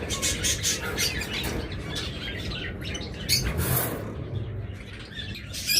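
Caged finches, a pair of porpas kept alongside American yellow canaries, chirp and tweet steadily at close range over a constant background hum, with brief flutters and coos mixed in.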